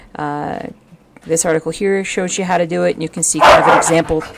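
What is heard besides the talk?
dogs barking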